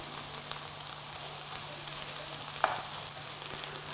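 Filling for a keto quiche sautés in a pan, giving a continuous close sizzle with a faint low hum beneath and one brief utensil tap. No voices.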